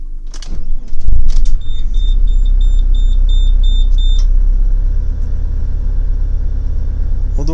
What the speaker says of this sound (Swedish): Det vi gör nu, det är att jag startar bilen.